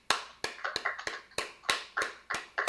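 Rhythmic hand claps from a church congregation acclaiming the Lord, a steady series of sharp, close claps in a regular beat with no voices over them.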